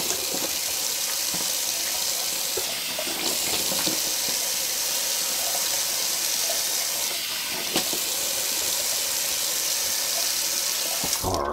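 Cold water runs steadily from a tap into a sink during a wet shave, a continuous close-up splashing hiss that stays level with small shifts in flow and no talking.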